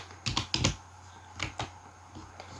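Router configuration commands are typed on a computer keyboard in a few quick, close clicks and taps, irregular and sparse against quiet background hiss.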